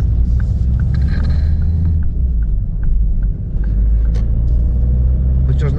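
A Ford Raptor pickup rolls out of a garage, its engine a steady low rumble held close throughout, with a voice speaking over it.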